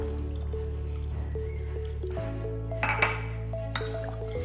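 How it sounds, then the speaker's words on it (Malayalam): Water is poured into a pressure cooker pot while homemade mango fruit drink is being prepared, heard as short splashing bursts over a steady tonal background with light clinks. "ഇനി ഇതിലേക്ക് വേണ്ട ആവശ്യത്തിന് വെള്ളം ഒഴിച്ചു കൊടുക്കാം"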